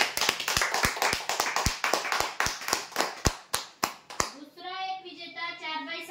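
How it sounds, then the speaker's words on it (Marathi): An audience claps for a prize winner at a weekly lucky draw, a burst of fairly loud, irregular applause that fades out after about four seconds into faint voices and background tones. "जोरदार टाळ्या होऊ द्या यांच्यासाठी"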